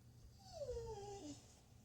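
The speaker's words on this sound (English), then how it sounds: "Even my dog's whining about it." A dog whines softly, a thin high whimper drawn out and sliding down in pitch, faint over a low background rumble.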